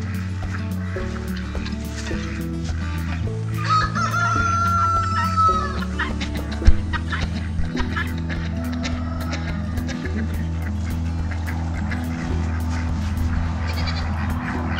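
Chickens cluck on a farm with several clear calls, including a louder stretch of clucking and crowing-like squawks, over steady low background noise.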